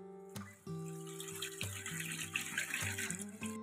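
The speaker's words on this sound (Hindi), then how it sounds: "अब हम इसके अंदर यखनी ऐड करेंगे।" Chicken stock (yakhni) is poured into a pot over ginger, garlic and yogurt browned for pulao, making a close, steady liquid pour with small splashes, alone without talk.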